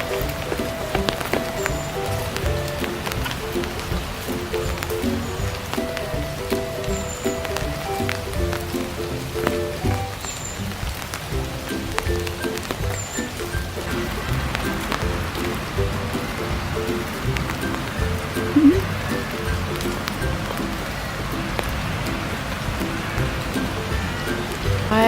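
Steady rain patters on surfaces in a park in Tokyo near the Studio Ghibli Museum, a continuous dense wash of drops with faint tonal sounds threaded through it.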